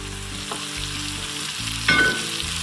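Diced onion sizzles steadily in melted butter and olive oil for Tuscan soup, a continuous frying hiss with a brief louder spatter near the end, no talking.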